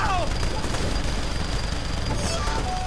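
Sustained automatic gunfire in the co-op shooter Saints Row The Third, a dense loud fusillade with booming impacts and a voice talking over the shooting.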